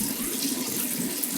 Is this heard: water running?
yes